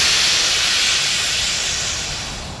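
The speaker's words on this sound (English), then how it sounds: "And now I'm just going to let the air out of the hose." Compressed air rushes out of a bus air hose after the tank valve is shut, a loud steady broadband hiss that holds strong for a few seconds and slowly begins to taper.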